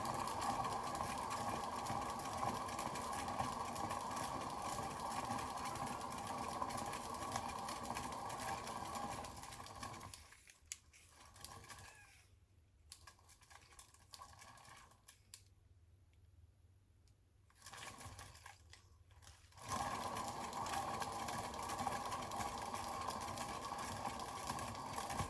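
A paint pour spinner whirs steadily and loudly while spinning an acrylic fluid pour, with a droning hum that drops away in the middle for several seconds before returning at full strength.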